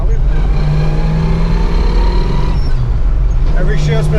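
A 1969 Chevelle Yenko tribute pulls through the gears with shifts around 2,500 RPM, its low engine rumble steady and close from inside the car while someone talks over it.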